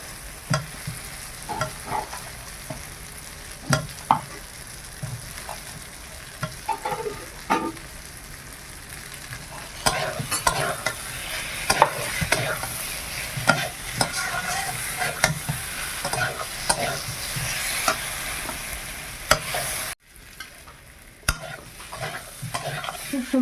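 Cauliflower and potato stir-fry in spices in a pan, with a steady close sizzle and repeated scraping stirs that run almost without a break, dipping briefly near the end.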